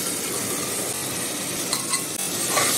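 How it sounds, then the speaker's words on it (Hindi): Marinated mutton hits frying masala in a pot with a dense, steady sizzle, close and fairly loud, broken by a few light clinks of a utensil. "अब इस स्टेज में डाल देती हूँ मटन मैरिनेट किया हुआ।"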